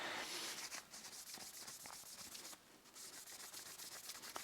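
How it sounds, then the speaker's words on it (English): Wax being buffed into a birch wood knife handle makes a steady, close, quiet rubbing and swishing with short strokes and no talk. "polishing the wax, buffing the wax maybe, to make sure it doesn't just sit on the surface"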